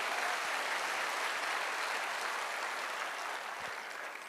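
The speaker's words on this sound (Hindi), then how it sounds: "अच्छी वाली ताली जरूर बजा दें।" An audience at a success story event applauds steadily, dense clapping that holds for several seconds and then tapers slightly, with no speech over it.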